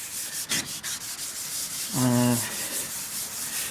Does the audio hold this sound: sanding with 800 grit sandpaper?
yes